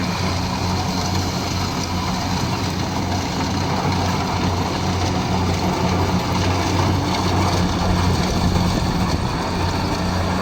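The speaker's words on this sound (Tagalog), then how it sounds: "Maingay yung machine, maingay yung motor ng ano." A steady, loud rice harvester engine drone runs continuously with a low rumble and mechanical clatter, farm machinery harvesting rice nearby.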